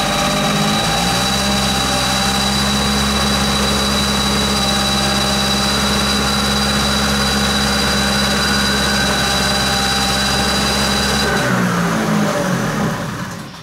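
A Kymco Vitality scooter engine with an oversized 0.80 mm jet runs loud and steady at full throttle, close by, with no talk. The drone shifts slightly near the end.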